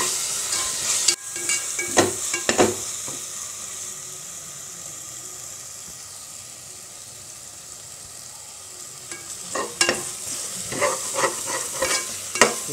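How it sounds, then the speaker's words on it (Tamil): Ginger garlic paste fries in hot oil with a soft continuous sizzle, broken by bursts of scraping as a spoon stirs it in the pan, loudest near the start and end, no voices. "இஞ்சி பூண்டு பேஸ்ட் நல்லா வதங்கிருச்சு."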